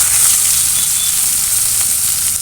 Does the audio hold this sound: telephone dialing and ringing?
no